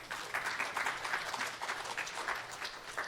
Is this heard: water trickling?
no